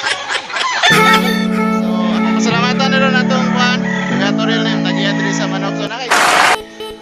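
Fowl calls ring out loud and close, with strongly harmonic crowing or squawking bursts from a chicken that arrive in three or four long stretches, along with other voices and a sharp noisy burst near the end.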